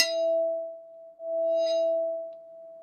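Resonant ringing tones from a struck wicker basket used to build Hanzo's ultimate sound in Overwatch: two sustained, clean tonal rings, each opening with a bright strike, clear and alone.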